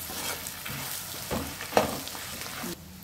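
Puffed rice and garlic fry in a pan for masala puffed rice, a close steady sizzle broken by a few stirring scrapes and a sharp clink before the sound drops away.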